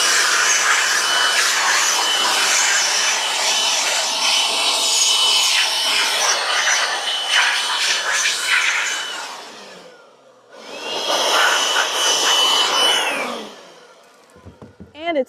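A DeWalt battery-operated blower roars loudly and steadily while clearing bees off honey frames, cutting out briefly near the end and then starting again, followed by a few short clicks.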